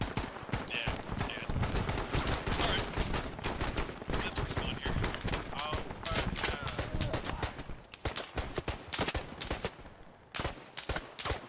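Rapid gunfire in the military shooter game Squad, dense bursts of automatic fire and single shots cracking continuously for several seconds, loud and busy, thinning slightly toward the end.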